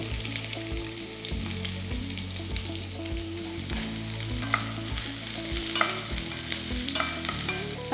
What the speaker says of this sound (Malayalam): ലൈറ്റ് ബ്രൗൺ കളറാകുന്ന വരെ സോട്ട് ചെയ്യാം.